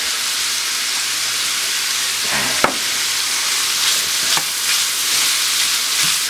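Chopped onion, about a quarter cup with salt, sizzles steadily in a hot pan, a continuous bright frying hiss with a few sharp pops and light stirring clicks, close and alone.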